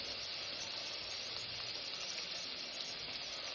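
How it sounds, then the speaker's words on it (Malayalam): Mustard seeds splutter in hot coconut oil in a pan for fish curry, a faint, steady sizzling hiss dotted with tiny crackles, unbroken and without talk. "കടുക് നന്നായി പൊട്ടിയ ശേഷം"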